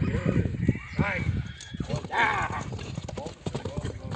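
A horse's hooves clip-clopping at an outdoor horse gathering in Kyrgyzstan, fairly close and rhythmic but partly buried under steady conversation between several men.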